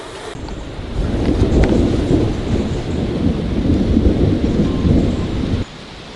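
A loud, steady roar of heavy rain in a forest, maybe mixed with rumbling thunder, swells in after a quiet start and cuts off abruptly near the end.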